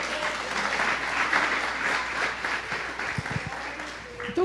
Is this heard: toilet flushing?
no